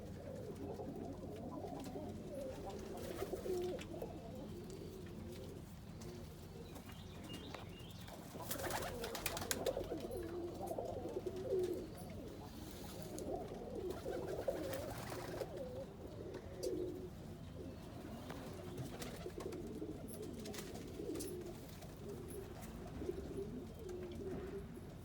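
Almond homer pigeons in a breeding loft coo softly and repeatedly, low murmuring calls layered over quiet rustling and faint background noise, with no speech.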